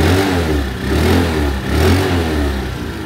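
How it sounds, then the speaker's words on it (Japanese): A used scooter with 15,000 km on it and a very weak battery runs close by, its engine droning steadily and swelling in two short revs before settling back. No talk. "1万5000キロのスクーター、エンジン今かかってるんですけど"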